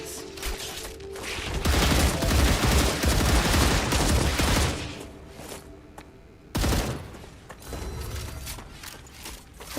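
In the video game StarRupture, dense bursts of rapid gunfire rattle and clatter close by for several seconds. A short pause follows, then another abrupt volley with a mechanical ratcheting edge.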